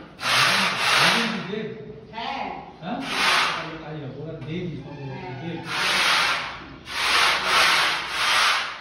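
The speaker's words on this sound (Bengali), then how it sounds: "দেখি পুট্টিটা মিশছে এখানে" Berger wall putty being mixed for house painting, a series of loud close rubbing and scraping strokes in uneven bursts, with a voice talking over parts of it.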